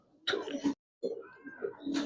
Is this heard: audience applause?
no